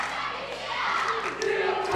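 Spectators at a basketball game roar and yell together, a loud, continuous arena din that builds slightly toward the end.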